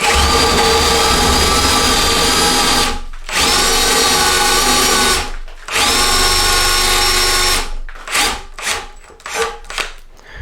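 A power drill with a spade bit bores steadily into a wooden workbench beam, a loud continuous whine broken by two short pauses, then several quick bursts as the trigger is pulsed.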